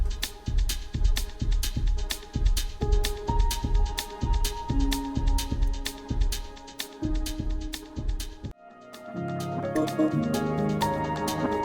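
An instrumental collaboration plays alone: a steady pulsing beat with sustained tones for about eight seconds, then the rhythm drops out and layered melodic lines carry on.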